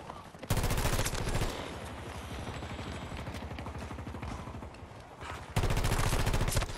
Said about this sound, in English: The hip fire is insane for not having to hit.